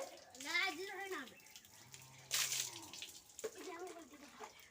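Hot water poured for a bath splashes in intermittent gushes, close by, while a child and an adult talk over it.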